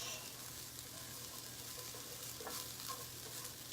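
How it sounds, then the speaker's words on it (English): Squash being stirred into a cooking pan with a soft, continuous scraping and faint sizzle, quiet and close, with no speech. "Then what we're going to do is we're going to stir in the squash"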